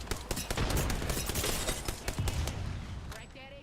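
Rapid, loud gunfire in the battle royale game Apex Legends, a dense stream of shots that tapers off toward the end.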